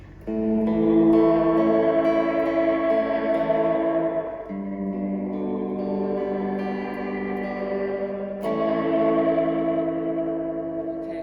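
An electric guitar plays sustained chords through a Fender Reflecting Pool pedal set to reverb and tape echo. The washy, echoing tones swell and decay across several strums, loud and up close with no talking.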